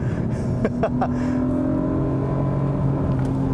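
A 2021 Acura TLX Type S on a race track at full throttle, its engine droning with a steady, rising tone heard from inside the cabin, a few brief clunks early on and no voices.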